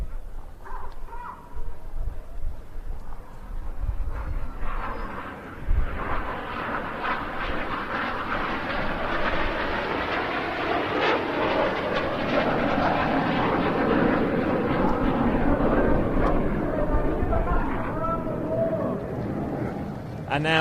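Red Arrows jets fly their final display manoeuvre with smoke on at Bournemouth Air Festival, a broad jet roar that swells and holds through the middle, under intermittent commentary and crowd sounds.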